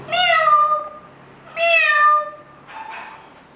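A woman imitates a cat's meow during a Bengali challenge game: two clear, drawn-out meow-like calls, each close and loud, followed by a softer, shorter third call.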